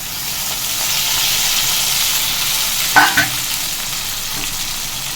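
Onions sauté in a pan as tomatoes go in for a drumstick thokku, giving a continuous close sizzle and hiss with a brief clatter of stirring midway, no voices.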